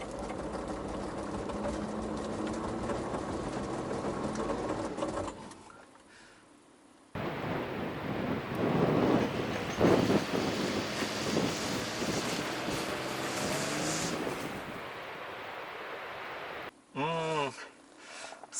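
A 4WD vehicle fitted with tire chains, in low-range transfer and low gear, pushing over a sand dune in New Zealand: a loud strained engine drone with gritty roaring and wind buffeting, dropping out briefly between takes.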